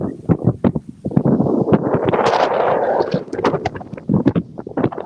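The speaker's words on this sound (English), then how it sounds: "Now I'm walking against the wind," Gusty wind buffets the microphone in loud, rumbling bursts outdoors at the Grand Floridian resort, with a voice partly audible underneath.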